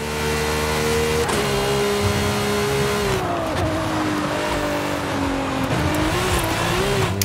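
A car accelerates hard in the racing video game Forza Horizon, its engine note climbing steadily in pitch with a gear change midway, loud and continuous with no talking.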